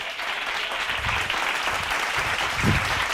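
A church congregation gives a short burst of applause during a late-night Bible study, dense steady clapping from many hands throughout, fairly loud and even with a few heavier claps standing out.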